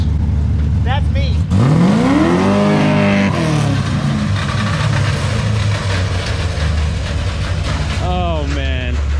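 Drift car engine revving hard with a slipping clutch, the pitch sweeping up and falling back in a long strained rev, then a second rising burst near the end, loud and close.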